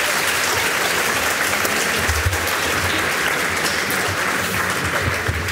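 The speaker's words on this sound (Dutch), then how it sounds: "Een hartelijk applaus voor iedereen." Sustained, dense audience applause in a hall at a national student debate in the Netherlands, a steady wash of many hands clapping at even loudness.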